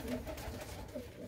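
A Shah Akha pigeon held in hand gives a gentle, throaty coo, a couple of rolling low phrases close up and fairly quiet.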